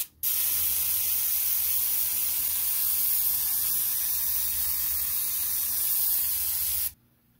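An airbrush sprays Vallejo Model Air Russian AF Grey base coat onto a Gundam space colony model, a steady close hiss running unbroken for about seven seconds before cutting off.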